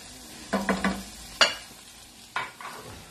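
Guanciale cooking in a pan: a few sharp scrapes and clinks of stirring against the metal ring out over a faint, low sizzle in short, separate bursts.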